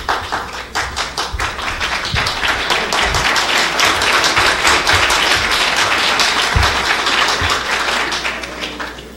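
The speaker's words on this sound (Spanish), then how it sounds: "Les pediría de ahora en adelante con las preguntas que evitemos al máximo los aplausos" An audience at a university debate at Javeriana Cali breaks into loud, dense applause, with many hands clapping close together. The clapping swells and then slowly thins out, with little talk underneath.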